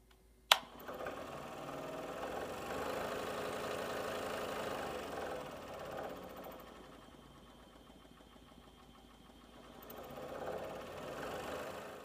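A scroll saw in a workshop runs steadily with a buzzing, rattling motor drone whose pitch and loudness rise and fall as the speed dial is turned, preceded by a sharp click as it starts.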